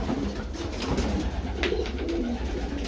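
Pigeons coo inside a loft in soft, repeated low throaty calls that overlap one another, close to the listener, over a steady rustling background with no talking.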